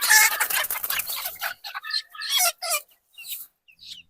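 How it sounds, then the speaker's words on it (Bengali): A young native desi rooster on a small farm gives short, strained, squeaky crowing calls in a broken series of bursts, fairly close and moderately loud. "দেখেন একটা বাচ্চা মোরগের সাউন্ড কি গলার"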